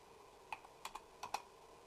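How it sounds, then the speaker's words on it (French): Several separate key clicks from a computer keyboard during AutoCAD 2D drafting, sounding as crisp isolated taps in an irregular rhythm, close and fairly quiet, with no talking. "Et j'appuie sur le bouton clavier mathématique."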